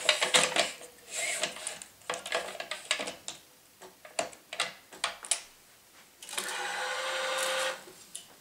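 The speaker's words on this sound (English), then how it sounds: "I'm going to use the starting clamp once again to tension this short loop" A tennis stringing machine works on a Wilson Pro Staff 97LS racquet with a starting clamp, giving a run of close mechanical clicks and ratchet ticks, then a steady whirring tension pull lasting about a second.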